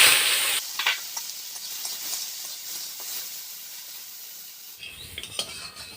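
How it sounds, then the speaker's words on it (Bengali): Boiled jackfruit seeds hit hot mustard oil tempered with nigella seeds in a kadai, a loud burst of sizzling with a clatter, settling into a softer steady hiss with stirring scrapes. "এবার সেদ্ধ করা কাঁঠাল বীজগুলো দিয়ে দেব।"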